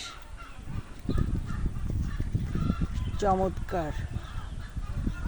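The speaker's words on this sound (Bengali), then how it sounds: "কি পরিমাণ রাজহাঁস" Several domestic geese honk in loud, nasal bursts close by, over a constant bustle of flock noise, with a person speaking briefly.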